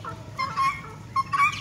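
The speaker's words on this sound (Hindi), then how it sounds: "ग्योनाफॉल जो है ना, बस मुसलसल शोर, बस शोर शोर आवाज़, तो इसकी बंद ही नहीं होती ना।" A flock of guinea fowl kept as farmyard pets gives repeated harsh, bursting calls in close succession, loud and near, with brief gaps between cries.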